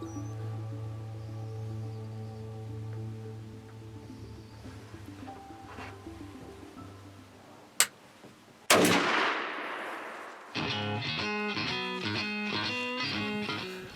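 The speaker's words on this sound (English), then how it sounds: "Even I can't blow a 30-yard shot with a shotgun off of a solid rest." A single loud shotgun blast fired at a whitetail deer from a blind during a hunt, sharp and sudden after a quiet stretch, followed by a burst of noise and then steady rhythmic music.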